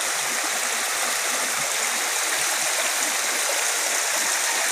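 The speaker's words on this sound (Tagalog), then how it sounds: "Kumani tubo-tubo spring water." Spring water pours steadily over a small waterfall at Tobo Tobo Mini Falls in Matalom, Leyte, Philippines, a dense, close, unbroken rushing hiss.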